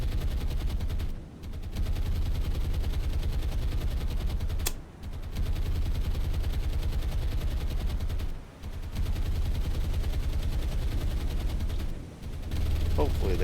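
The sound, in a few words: heavy cruiser naval gunfire in War on the Sea video game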